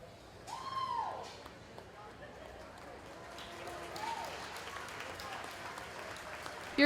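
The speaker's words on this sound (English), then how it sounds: "give our feeder calf exhibitors a nice round of applause" Crowd applause for feeder calf exhibitors at a 4-H and FFA market steer show. Moderate, steady clapping in an arena continues throughout, with a whistle and faint voices mixed in.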